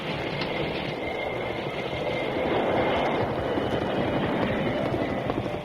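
Old-time radio drama effect of a steam train in a western serial, a loud, steady rolling rumble of wheels and engine filling the whole passage with no talk over it.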